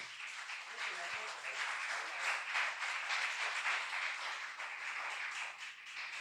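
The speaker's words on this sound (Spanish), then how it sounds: "Denle un fuerte aplauso a Dios por eso." Church congregation breaks into sustained applause during a sermon, a dense, even wash of clapping with faint voices mixed in, holding steady throughout.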